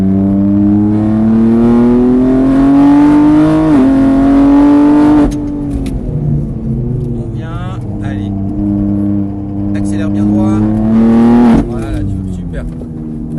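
A car on a track at Mireval runs through a lap with a loud engine revving up and easing off through gear changes. A driving instructor talks throughout, close by, over the engine.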